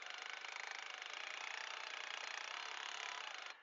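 A power drill-driven cutting tool saws through a car's A-pillar, a loud, steady buzzing rasp running for about three and a half seconds before stopping abruptly, close up with no talk.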